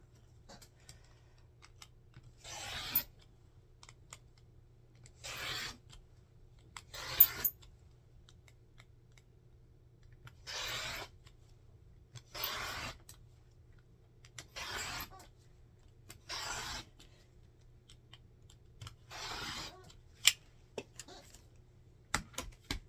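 Half a yard of cotton binding fabric being cut into 2.5-inch strips, with about nine separate short slicing strokes at irregular intervals, close and fairly quiet over a faint low hum, with no talk.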